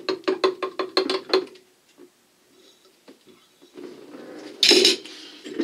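Plastisol for soft plastic fishing lures being stirred in a container: a quick run of about seven sharp rhythmic clinks and taps, then quieter scattered scraping, and a louder brief clatter near the end.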